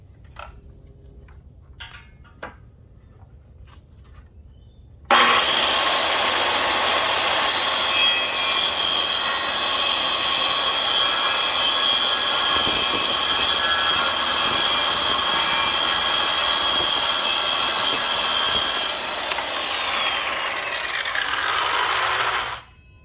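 Power saw trimming a small end piece off wooden fascia on an HO scale model railroad layout, a loud steady whine running for about fourteen seconds after a few faint taps, then spinning down.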